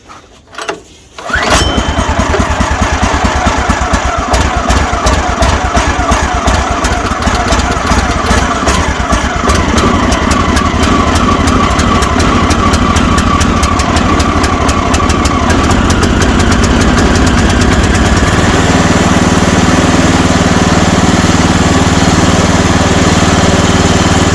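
The small engine on an HM126 sawmill starts and runs continuously at a steady mid-pitched putter, close and loud, with no talk over it.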